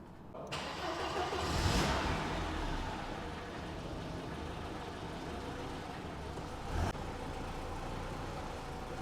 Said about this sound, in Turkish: Evet aracımızın soğuk çalışması bu şekilde